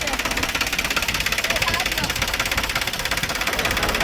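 A tractor engine runs nearby in a steady, loud, throbbing mechanical chug that keeps an even pulsing rhythm through the whole stretch.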